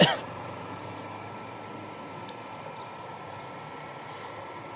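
An exhaust fan hums with a steady, even whir that holds at a constant low level from start to finish, with no voices over it.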